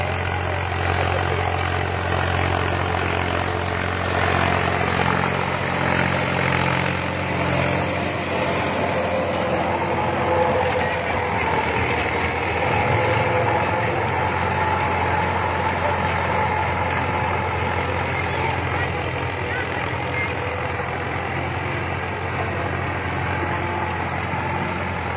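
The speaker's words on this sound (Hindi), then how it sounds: "ट्रैक्टर चला जा रहा है।" A tractor engine runs in a crop field, a continuous low, rumbling drone that holds steady and fairly loud for the whole stretch, with no voices.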